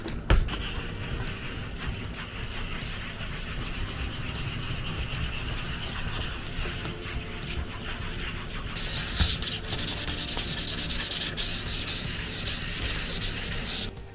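A carbon fibre rear spoiler for a Mazda MX-5 NC is sanded by hand, producing a steady, close, abrasive rubbing hiss that continues without break, slightly brighter in the second half.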